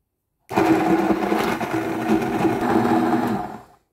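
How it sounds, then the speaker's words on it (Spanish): A steady motorized whir of a hand blender blending a turrón mixture continuously for about three seconds, fairly loud and close, with no voices. "y todo mezclado y triturado con batidora."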